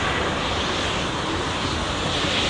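Air Dolomiti Embraer E195 airliner taxiing toward the runway at Frankfurt Airport, a steady, loud broadband jet engine roar heard close by, continuous and unbroken with no voices.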